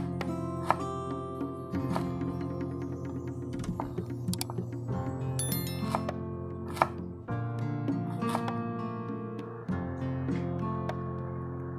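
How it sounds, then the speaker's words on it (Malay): Ginger being sliced thinly with a knife on a cutting board, giving a series of crisp, close chopping taps with short pauses between runs of cuts. "Halia dan yang suka hiris nipis dan kemudian akan hiris memanjang"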